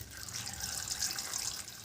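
Water pours from a tap or vessel into a bowl of dambha vegetables for washing, a quiet, steady splashing rush with no talk.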